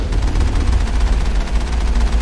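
Rapid, dense booming bursts from a cannon in the video game Mass Effect, loud and continuous with a heavy low rumble, no talk over it.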